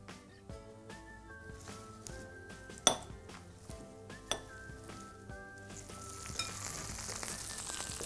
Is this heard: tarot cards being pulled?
no